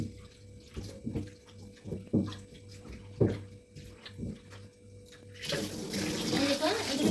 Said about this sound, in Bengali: এই দেখুন কিরকম ভাবে ময়দাগুলি ধুয়ে ধুয়ে পরিষ্কার হয়ে চলে যাচ্ছে।